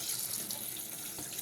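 Filtered water running steadily from a tap over rice in a rinser for a final rinse, a continuous close splashing hiss with no talking.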